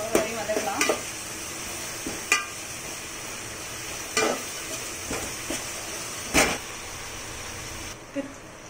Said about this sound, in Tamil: இஞ்சி பூண்டு பேஸ்ட் ஆட் பண்ணிக்கிறேன். வதக்கலாம்.